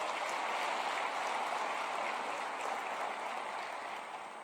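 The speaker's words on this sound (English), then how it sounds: "We want to take this opportunity to give her a round of applause" A conference audience at Kigali Convention Center applauds steadily, a dense wash of clapping that holds and then begins to fade toward the end.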